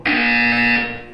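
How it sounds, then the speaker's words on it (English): A loud, harsh electronic buzzer sounds once from a test chamber in the Portal 2 video game, holding a steady tone for about a second before cutting off. "When you hear the buzzer, look up at the ceiling."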